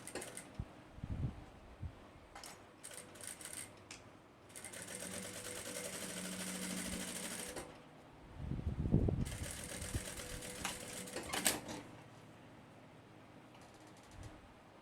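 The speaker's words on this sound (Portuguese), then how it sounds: "e depois eu costuro na mesma costura que eu já tinha costurado do viés." A sewing machine stitches bias binding onto a backpack with a front pocket, running in two sustained stretches of a few seconds each separated by pauses, with quiet handling noises in between and no talk.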